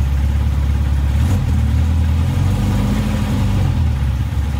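A supercharged Sprite car engine idling at about 1050 to 1100 rpm, a steady low rumbling throb heard close and loud, holding even throughout with no talk.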